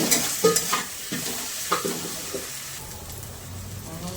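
Masala of coriander powder and Kashmiri chilli powder stir-fried in a pan for curry leaf chicken, with a steady sizzle and several sharp spoon scrapes and knocks close by, no talk.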